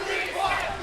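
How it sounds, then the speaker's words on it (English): A packed tournament audience at Combo Breaker 2024 roars and cheers wildly during a Granblue Fantasy Versus Rising grand final, a brief loud wall of crowd noise. "And the crowd goes absolutely wild"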